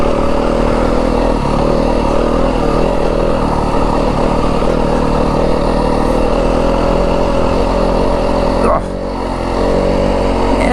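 A 2025 Yamaha WR250F dirt bike rides through rough Arizona desert terrain, its engine droning loud and close with a continuous, slightly varying pitch as it holds a gear, plus occasional clatter from the trail.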